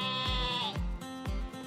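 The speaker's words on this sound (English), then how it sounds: "I know that sound. It's baa. Yes, it's a sheep." A sheep bleats repeatedly on a farm, three loud close wavering baa calls in a row with no talking over them.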